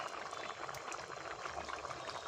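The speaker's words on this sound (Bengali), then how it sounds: "তাহলে মাছটা দেখো ঝোলে দিয়ে দিচ্ছি" Bata fish pieces slide into a simmering spiced curry, giving a soft, continuous bubbling and liquid burble at low level throughout.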